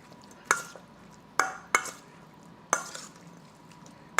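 Big spoon stirring a pot in the Firewatch video game, heard as four sharp scraping clacks spaced irregularly over a quiet, faintly hissing background.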